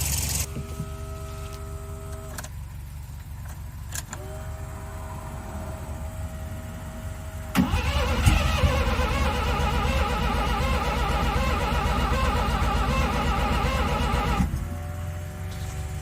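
Mazda RX-7 with a 12A rotary engine, a cheap project car, cranks with whining starter tones, then catches at midpoint into a loud buzzing rotary idle that runs several seconds before dropping off, no speech.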